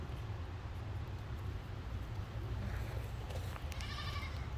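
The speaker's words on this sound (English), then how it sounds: "Crazy goats." Goats bleating in a zoo enclosure, with a few short bleats over steady background noise, fairly faint and without speech.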